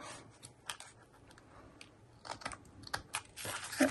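Scissors trim a layered paper Christmas gift tag in a few quick crunchy snips, close and fairly quiet, with louder cuts bunched toward the end and no talking.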